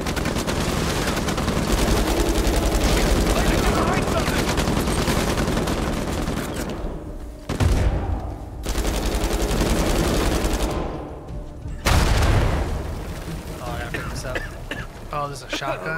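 Shotgun blasts and dense gunfire in Uncharted 4, a sustained loud barrage with a few brief lulls and sharp renewed bursts, a voice speaking over it.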